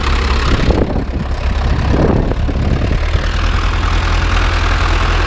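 An Ursus C-360 tractor engine idles steadily at close range during field clearing, a constant low diesel rumble with some knocking texture throughout.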